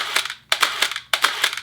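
Three quick mechanical shutter clacks from a Pentax 645N medium format camera at 1/1000 second, each a sharp snap followed by a brief whirring rattle, close and crisp with short pauses between.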